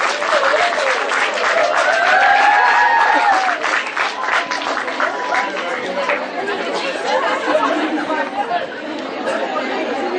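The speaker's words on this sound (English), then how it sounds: "I request all the audience to kindly cheer up this team" An audience at an award ceremony applauds a runners-up team with loud, sustained clapping and crowd chatter, with voices and brief shouts mixed in.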